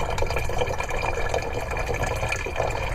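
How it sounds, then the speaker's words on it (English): Gray water draining out of a new indoor gray water tank into a portable jug inside a DIY winter camper van kitchen, a steady close rush and trickle of pouring liquid that runs on without a break. "So now everything drains out of our new indoor gray water tank"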